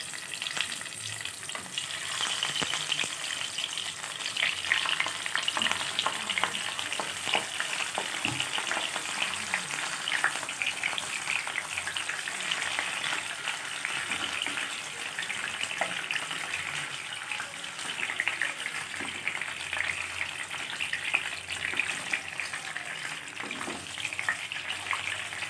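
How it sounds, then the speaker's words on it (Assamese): Bhangun fish fry in hot oil in a pan, a loud, dense, continuous close sizzle that holds steady throughout with faint crackles and spatters. "মই মাছকেইটা অলপ অলপ ভাজি ল'ম আকৌ"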